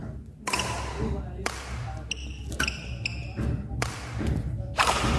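A jumping badminton smash in a video game lands as a sharp, close thwack, with a few other quick hits and taps in the rally and someone talking over the play.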